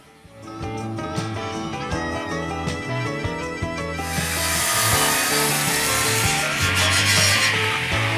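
A log mill saws a rafter from a single log, giving a loud, continuous rasping, grinding cut with repeated tonal scraping that swells partway through.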